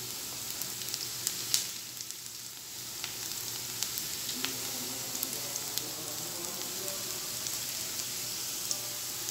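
Softened onions sizzle steadily in a hot pan over a low-to-medium flame, a continuous close frying crackle with occasional sharper pops, no voices.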